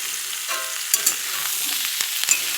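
Potatoes with young spring onion shoots sizzle steadily in a hot pan, with occasional stirring scrapes and small pops, close and moderately loud.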